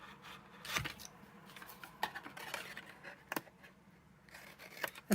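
Scissors snipping through paper card tabs for a Stampin' Up! craft box, a few separate crisp cuts spaced apart amid faint handling rustle, close but quiet and without speech.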